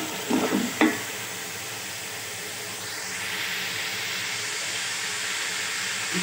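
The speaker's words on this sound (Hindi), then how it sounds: "इसको मैं अच्छी तरह भून लूंगी" Beef frying in a pan for beef pulao, opening with a few loud clattering stirs and then settling into a steady close sizzle and hiss with no talk.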